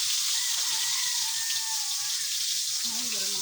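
Food frying in a home kitchen pan gives a steady bright sizzle, with a low rhythmic thumping underneath and a brief voice near the end.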